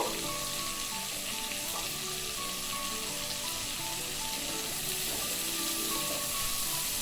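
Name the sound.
vegetables frying on medium flame for pulao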